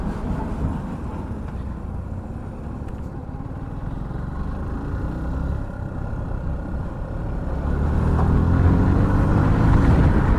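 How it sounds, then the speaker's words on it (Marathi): Steady road traffic on the Mumbai-Pune old highway, a continuous broadband rumble of passing vehicles that swells louder toward the end, with no voices. "इथे ट्रॅफिक असणारच."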